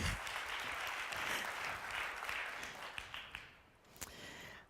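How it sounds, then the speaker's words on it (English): An audience at a tech summit talk gives a round of applause for a volunteer coming up on stage, dense clapping that thins out and fades to a few last claps. "Everyone give him a round of applause"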